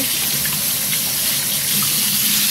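Steady running water pours from a kitchen tap, rinsing raw cake batter off skin; a continuous, close rushing gush with no talk.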